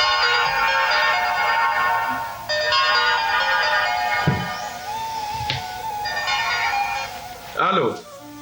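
A phone rings in an Egyptian Arabic film scene, its electronic tune repeating in bright, insistent bursts with short breaks, close and prominent, with a few scattered knocks and rustles underneath.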